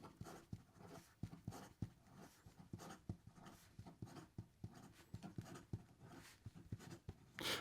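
A Benu Steamboat Master fountain pen scratches quickly across paper in fast writing, with close rhythmic strokes and brisk nib taps repeating steadily throughout, quiet and with no talking.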